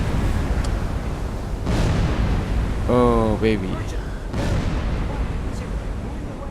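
In the submarine game Silent Hunter 4, a torpedoed ship sets off secondary explosions, deep rumbling booms rolling in over a low roar, with a man exclaiming briefly over them.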